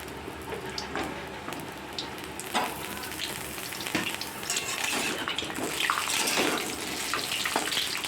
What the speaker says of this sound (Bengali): তেলটা গরম হয়ে গেছে। আমি পটলে কিন্তু নুন হলুদ আমি কিছুই দেবো না, পটলটা এমনি ভাজবো।